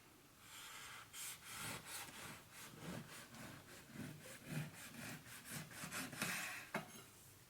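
A knife saws through a homemade pan bauletto sandwich loaf in a long run of rhythmic back-and-forth strokes, rasping and crusty, close and fairly quiet, with no speech.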